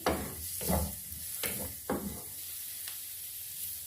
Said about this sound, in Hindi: पैन में हमने 1 टेबलस्पून ऑयल डाल दिया है। अब इसमें ऐड करेंगे प्याज, हल्का सा सौटे करेंगे।